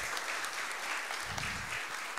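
Continuous audience applause for panelists at a conference panel, dense clapping heard from a distance at low volume, steady throughout.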